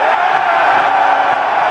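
A packed audience at a rock concert roars and yells nonstop, a dense, loud wall of crowd noise with whoops and cheers blending together throughout.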